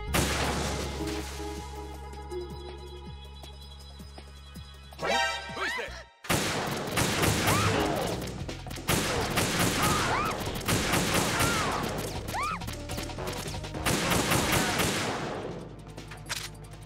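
In Metal Gear Solid 2: Sons of Liberty, sniper support fire opens after a short sudden break, giving a dense run of loud gunshots and impacts over a droning game soundtrack, with no speech.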